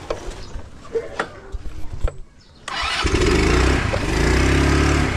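A motorcycle engine cranks and catches after a few scattered clicks and knocks, then settles into a loud, steady, close running idle.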